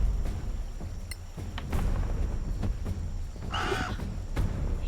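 A crow caws once, harshly, in the video game Solasta, over a steady low background of game ambience.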